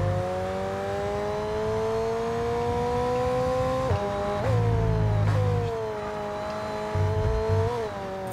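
A Lamborghini in the F1 22 racing game, its engine holding a steady high rev with pitch shifts as it shifts gears, plus bursts of tire noise and scrabbling, loud and alone with no talk.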